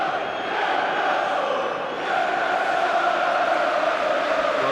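Broad crowd noise rolls around a football stadium during Newcastle United against Nottingham Forest, a steady murmur that swells briefly, with no distinct chant or roar standing out.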